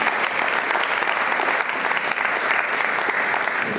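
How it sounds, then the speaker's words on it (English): An award-show audience at a virtual reality convention breaks into dense, sustained applause, loud and even across the whole stretch with no pause. "So why don't we get a round of applause?"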